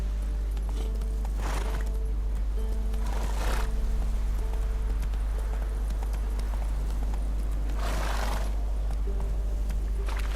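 A horse gallops in The Witcher 3: Wild Hunt (Game of the Year Edition, PS4), with steady hoofbeats and a whinny over a constant low hum.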